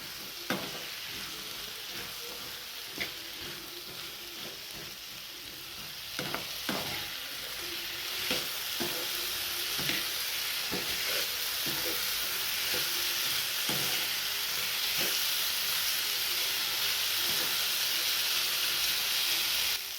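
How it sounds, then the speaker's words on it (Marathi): Finely cut potato frying in a little oil in a pan, giving a steady, close sizzle and hiss throughout with occasional scraping and stirring clicks. "हा बटाटा आपल्याला थोडंसं तेलामध्ये भाजून घ्यायचा आहे"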